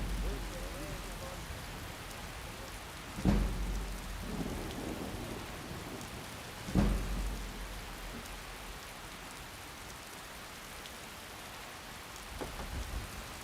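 Steady heavy rain pours in a Skyrim storm with the Splashes of Storms mod, broken by two loud nearby thunderclaps a few seconds apart, each rumbling off into the continuous downpour.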